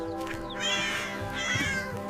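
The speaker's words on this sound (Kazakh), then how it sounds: "Ал бұл жануар мысық. Ол мяу деген дыбыстар шығарады." A cat meows twice in quick succession, close and clear, in a children's song about farm and pet animals.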